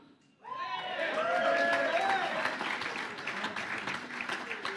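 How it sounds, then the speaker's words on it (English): At a British BMX Hall of Fame awards event, an audience breaks into loud applause and cheering that starts abruptly after a brief quiet moment and then carries on as sustained clapping. "I'm glad you're cheering"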